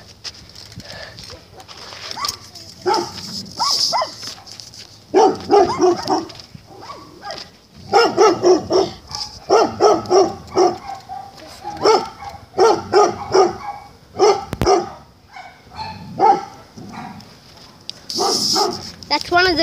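Several dogs, a Labrador among them, bark in short, loud bursts along a bike ride. Voices talk over and between the barking.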